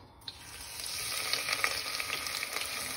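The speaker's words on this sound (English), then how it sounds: "start frying the onions." Onions sizzling in hot ghee in a pan, a steady close crackle and hiss with small spitting pops, continuous from just after the start.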